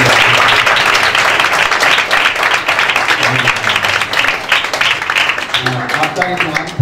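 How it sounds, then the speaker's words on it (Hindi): Audience applause at a Bible college gathering, dense clapping that carries on steadily, with some voices talking underneath, then thins slightly near the end. "जी जोरदार तालियां बजाएं।"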